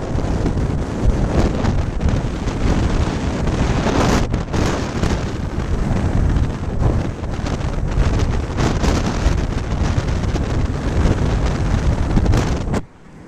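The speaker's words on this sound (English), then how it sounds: "so combined wind speed of 50 some odd miles of wind" Strong wind, around fifty miles per hour, roars across the microphone aboard a boat in rough seas with twelve to sixteen foot swells, a loud continuous buffeting rush that cuts off abruptly near the end.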